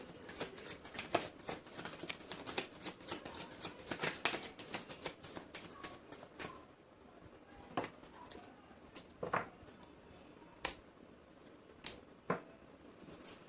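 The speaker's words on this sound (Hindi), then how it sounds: "This is my last shuffle." Tarot cards shuffled by hand, quick, dense riffling and slapping at first, then thinning into occasional separate card taps and flicks, close and fairly quiet with no talking.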